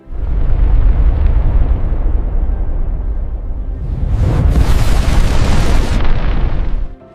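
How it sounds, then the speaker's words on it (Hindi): Asteroid impact explosion sound effect for the Chicxulub strike that ended the dinosaurs: a loud, sustained roaring rumble that swells into a second, harsher blast midway before cutting off abruptly. "धमाका।"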